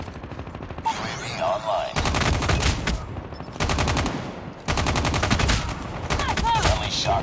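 Assault rifle fire in a video game, BK-57 or ASM-10, comes as loud rapid automatic bursts in several separate strings, with a game voice announcement between shots.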